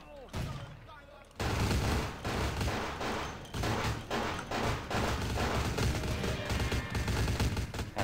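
Heavy, sustained gunfire in the Vampire: The Masquerade – Bloodlines game, dense overlapping shots and thuds coming from several directions after a brief quieter opening.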